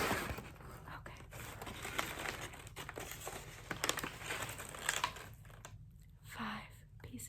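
Packaging paper from an AK Press book unboxing crinkles and rustles up close for several seconds, soft irregular crackles with faint whispery breaths and a quiet pause near the end.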